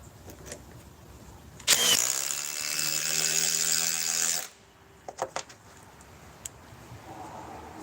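A DeWalt power tool whirs loudly for about three seconds while driving sockets into previously drilled holes, then stops, followed by a few faint clicks and clatters nearby.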